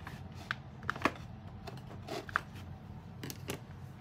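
Sticky tape pressed down onto a handmade cardboard vending machine craft, a few short crinkly taps and peels scattered over quiet background.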